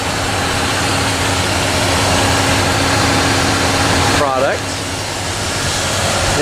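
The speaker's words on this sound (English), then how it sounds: "Make sure the engine's running, air conditioning's on." A 2003 Dodge Ram 1500 engine idling with the air conditioning on, a steady low drone close to the microphone with a brief metallic squeak partway through.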